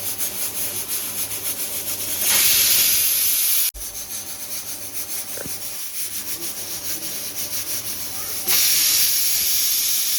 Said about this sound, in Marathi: झाकण लावून 4 ते 5 शिट्ट्या घेणार आहे.